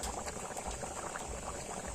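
A pot of catla fish curry with potatoes bubbles steadily at a rolling simmer, a dense continuous gurgle and hiss with no talking.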